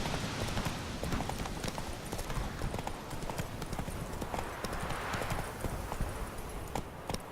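Roach the horse gallops in The Witcher 3, a quick, continuous rhythmic clip-clop of hooves at close range throughout, with a faint voice now and then.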